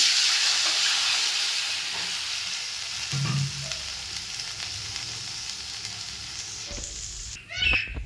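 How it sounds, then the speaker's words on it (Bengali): Boiled dal poured into a hot wok of oil with ginger and panch phoron, a loud steady frying hiss that settles and fades, with a clunk and utensil clatter near the end; no speech. "সেদ্ধ করা ডাল কড়াইতে দিয়ে দেবো।"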